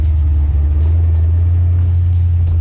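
A 1500hp Roadster Shop Grand National being driven, its engine a loud, steady, deep rumble that fills the whole moment without a break, heard up close from inside the car.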